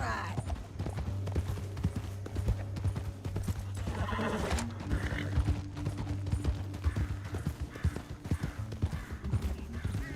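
Steady clip-clop of horse hooves trots along with a whinny in Red Dead Redemption 2, while people talk over a constant low hum and rattling mechanical noise.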